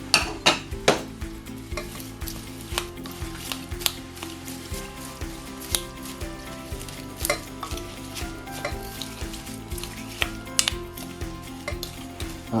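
Stirring a warm herbal oil mixture for a fly agaric balm in a pot, with repeated close scraping and sloshing strokes and a steady soft sizzle underneath, with no talking.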